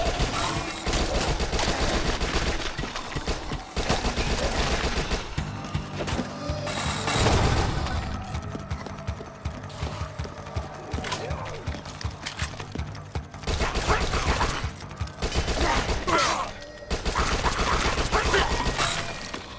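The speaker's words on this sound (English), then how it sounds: "SMG." Submachine gun fire in the Dead Nation zombie shooter, rapid automatic bursts repeating across the whole stretch with short gaps, loud and close over a dense layer of game effects and clatter.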